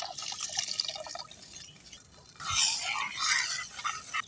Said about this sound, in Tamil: அதனால் தண்ணி ஊற்றிப்போம்.